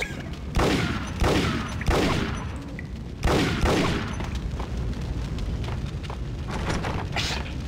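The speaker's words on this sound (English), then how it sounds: "So I do have to shoot him." Heavy gunshots ring out in the Max Payne video game as an enemy is shot, a run of loud booming blasts with reverberant tails that blur into a dense, sustained roar.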